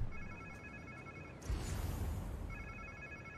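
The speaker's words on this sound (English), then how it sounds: "Sounds like somebody's phone." A telephone rings in a video game, Spider-Man 2, in repeated electronic trills, interrupted midway by a louder burst of noise before the ringing resumes.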